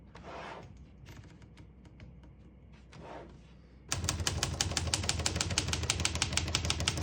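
Rapid typing on a 1954 Olivetti 22 portable typewriter: a few scattered keystrokes, then from about four seconds a dense, loud, steady run of close-up clacking strikes.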